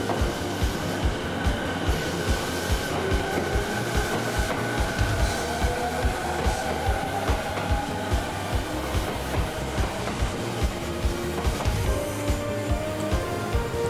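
A train heading toward Kurihama rolls through a Japanese station with a wooden roof and a row of old ticket gates, with rhythmic clickety-clack of wheels over rail joints, steady and fairly close, faint squeals and hum.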